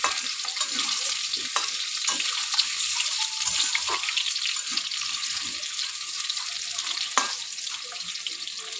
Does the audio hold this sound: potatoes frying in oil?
yes